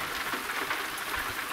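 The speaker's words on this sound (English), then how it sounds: "4 p.m. and it's raining." Rain falls in American Truck Simulator during a Montana run, a soft, steady hiss of drops with no voices over it.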